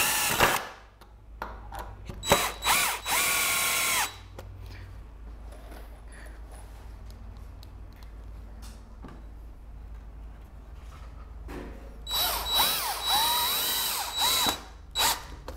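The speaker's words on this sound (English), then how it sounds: "So I'm going to go ahead and screw these in." Two bursts of a power drill driving screws into pallet wood, each a rising whir lasting a couple of seconds, separated by a quieter pause with faint handling noise.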